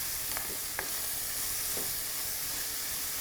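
Onion fries with a little salt in a pan for a Kerala fish curry, giving a soft continuous sizzle broken by a few light scraping stirs.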